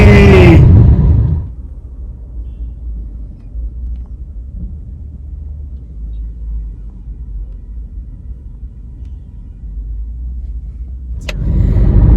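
A car rolling through heavy Delhi traffic on the way to the airport, heard from inside as a steady low engine and road rumble, with louder bursts of noise at the start and end.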